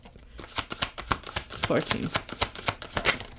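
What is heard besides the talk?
shuffling tarot cards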